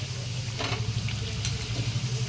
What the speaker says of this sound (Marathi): आपण तळून घेऊ मीडियम गॅसवर छान अशा लालसर तळून घ्यायचे आहे